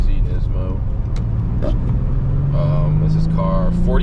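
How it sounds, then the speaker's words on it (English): Engine of a 2007 Nissan 350Z Nismo heard from inside the car, a steady low drone that slowly climbs in pitch while someone talks over it. "here we are in the 2007 350Z Nismo"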